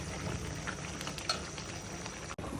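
Khichuri bubbling in a pot, a soft steady simmer with small pops and gurgles, close and fairly quiet, with a brief clink near the end.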